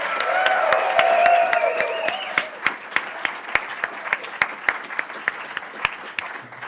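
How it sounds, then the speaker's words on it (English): An audience applauds a quartet at an alumni awards ceremony, with some cheering at first, then the clapping thins into steady, rhythmic claps. "Big, loud applause for our quartet."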